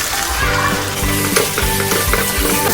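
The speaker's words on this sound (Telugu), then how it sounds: "పచ్చివాసన పోయేంత వరకు ఎర్రగా వేగింది. ఇప్పుడు చికెన్లోకి ఎర్రగా వేగాలి 10 నిమిషాలు." Chicken and masala spice powders, chilli powder and coriander powder, sizzle and fry loudly in a pan at close range, with steady crackling and occasional stirring scrapes and no voices.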